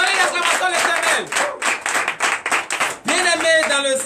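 Church congregation at a Sunday worship service clapping in acclamation, a loud, steady stream of hand claps mixed with voices and cheering, close and continuous.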